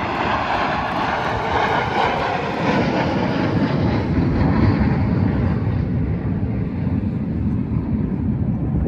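A display jet at Airshow Atlantic 2024 roars loudly overhead, a sustained, broad engine rush that slowly fades and thins as it climbs away.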